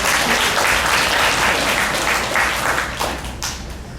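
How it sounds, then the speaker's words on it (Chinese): A church congregation at a children's memorial Sunday service and graduates' promotion ceremony claps together in a loud, dense burst of applause that fades slightly toward the end. "我们给上帝的掌声，也给丰源掌声。"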